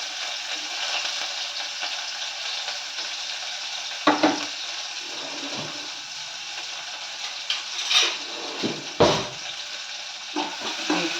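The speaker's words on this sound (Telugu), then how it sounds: "ఆయిల్ హీట్ అయిన తర్వాత పచ్చిమిర్చి ఆనియన్" Green chilies and onion fry in hot oil with a steady, bright sizzling hiss, while a few scrapes and clanks of stirring rise briefly above the frying.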